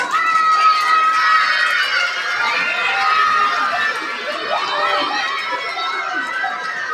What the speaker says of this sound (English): A big clap for the Rangers